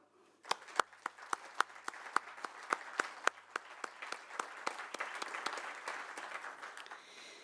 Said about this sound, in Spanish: creo que merecen un aplauso todos estos países tan importantes para todo el mundo